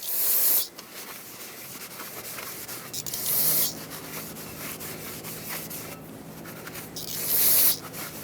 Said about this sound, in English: Use brake parts cleaner and a clean rag.